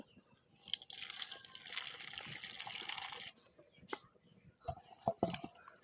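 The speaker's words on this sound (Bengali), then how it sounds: "এবার আমি এই শুটকি মাছের ভিতরে দিয়ে দেবো গরম পানি" Hot water pours steadily onto dried puti fish in a bowl for about three seconds, a close, soft rushing sound, followed by a few light clinks and taps.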